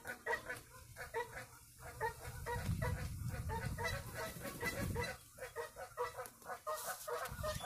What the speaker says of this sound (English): Let y'all see these ducks.